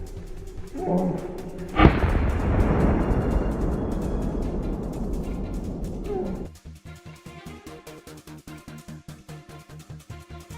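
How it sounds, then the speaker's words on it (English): A single sharp rifle shot cracks out during a wild boar hunt, followed by a long rolling echo through a forest that fades over several seconds. "The gunshot echoed through the forest."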